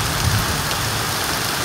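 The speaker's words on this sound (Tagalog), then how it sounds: "Ayan po, may kulog pa." Heavy typhoon rain pouring steadily in a dense, even roar, with a faint low rumble of thunder briefly underneath, loud and close throughout with no voices.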